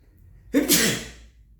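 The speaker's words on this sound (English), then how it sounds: "I think that's the first time I've ever sneezed in an episode" A single loud, close human sneeze, a sharp sudden burst followed by a short breathy tail, in an otherwise quiet room.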